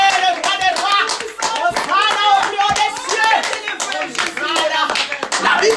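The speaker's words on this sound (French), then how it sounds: "Clap for the King of Kings." A church congregation clapping in rhythm while voices cheer and speak loudly over the applause, a busy crowd of close and distant hands.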